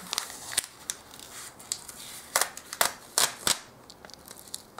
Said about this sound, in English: So it's a sticker here, has to be removed.